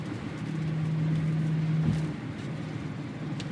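A 2003 BMW E39 540i cruising on a Michigan highway at about 90 mph, heard from inside as a steady low engine drone and road rumble with a brief hum that swells midway, no talk.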